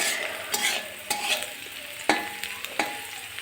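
Onions sizzle steadily in hot oil in a pan with a pinch of salt, the close crackle broken by a handful of sharp stirring clatters and scrapes, with no talking.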